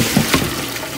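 Water poured out of a pot after blanching chicken, a brief continuous splashing rush of liquid at close range.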